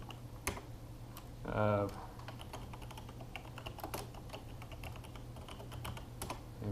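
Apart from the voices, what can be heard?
typing on a computer keyboard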